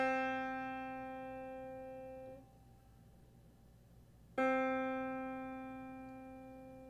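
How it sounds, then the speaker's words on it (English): Piano string at middle C plucked with a fingernail, twice: a bright ringing tone that is cut short, a quiet gap, then a second sharp pluck that rings and slowly fades, close and alone. "a fingernail plucking the same string"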